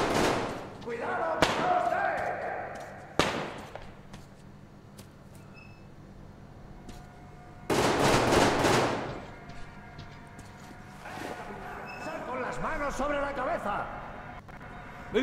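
Gunshots ring out in a video game set among soldiers: a few sharp isolated cracks, then a louder, denser burst of fire, separated by quieter stretches of ambient game sound.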